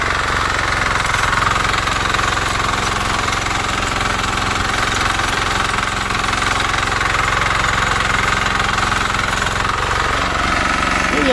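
A motor cultivator engine runs steadily while weeding potato rows with hedgehog weeders: a loud, constant rattling drone with a knocking edge that continues without pause.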